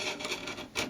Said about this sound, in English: just push your chisel down and slice it